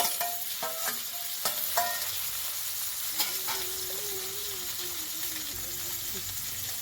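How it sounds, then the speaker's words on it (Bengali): Grated ginger, green chilli and tomatoes fry in a pan after onion and garlic, a steady soft sizzle with sharp clinks of a stirring spoon early on and a voice talking over it. "টমেটো আর আদা একটু আমি ভালো করে ভেজে নেব।"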